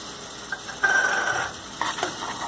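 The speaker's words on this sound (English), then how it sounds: "And now I am going to add tomato puree." Tomato puree with salt goes into a pan of sizzling mixed vegetables, and a soft hiss swells with light stirring scrapes in two short bursts over low kitchen background.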